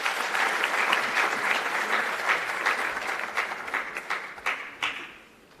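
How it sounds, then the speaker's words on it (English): Audience applause at a youth trade convention greets a speaker walking on stage, a full steady round of clapping that fades out at the end. "Let's give a round of applause as she's coming on stage."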